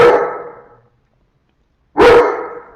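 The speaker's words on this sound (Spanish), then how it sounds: "Mi perro espero que pronto deje de ladrar." A dog barks twice, close and loud, with a second-long silent gap between the two sharp barks.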